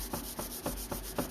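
A wooden night stand is sanded by hand, the sandpaper rubbing back and forth in quick, even strokes about four per second, close and fairly quiet with no voices.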